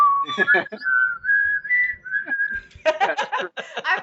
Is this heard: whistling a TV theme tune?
yes